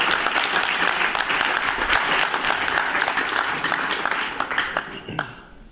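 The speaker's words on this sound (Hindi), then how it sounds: "जोरदार तालियां बजाएं अपने लिए।" An audience at a block-level youth parliament in Kahanaur applauds loudly and steadily for several seconds before the clapping thins out and fades near the end.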